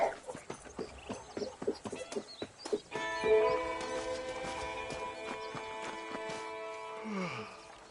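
A horse's hooves clop in a quick, uneven rhythm in the Western video game Red Dead Redemption, then give way to a sustained, layered tone that holds and fades.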